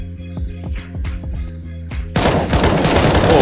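Gunfire in a video game rings out, first as several spaced single shots with ringing tails, then as a loud, dense rapid burst filling the rest of the moment.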